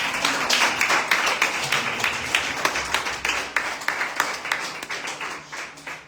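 A church congregation claps in a fast, steady rhythm, many hands beating together close by for several seconds before tapering off, with faint voices mixed in.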